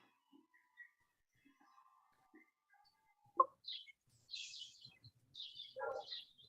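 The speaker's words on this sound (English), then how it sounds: "Now, who's sitting outside with the beautiful bird sounds?" Birds sing outdoors with scattered faint chirps and whistled calls, a few brighter trills standing out near the end against an otherwise quiet background.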